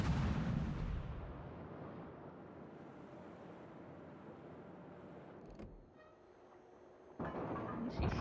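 Ship guns firing in the naval combat game World of Warships: a booming blast at the start fades into low rumbling sea ambience, followed by sharper gunfire bursts near the end, with no talking.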